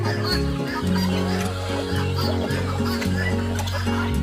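Chickens on a farm in the morning after two days of steady rain cluck continuously and densely, a loud, crowded flock sound with no pause.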